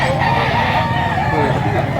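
A rooster crows at a poultry market, its call running through a steady murmur of background chatter and market noise at moderate distance.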